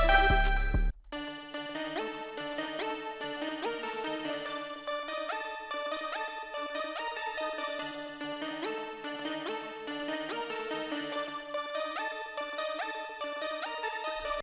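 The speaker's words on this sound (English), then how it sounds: "So the next sound I used is this key preset, which sounds like this." A synth keys preset plays a bright, melodic repeating pattern of sustained tonal notes in an FL Studio trap beat, clean and alone after a short cut at the start.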